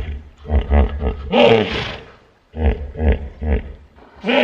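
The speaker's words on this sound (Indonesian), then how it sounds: "Kuda Nil." A hippopotamus gives a loud, deep call of rhythmic grunting honks in two pulsing bursts separated by a short pause, close and clear.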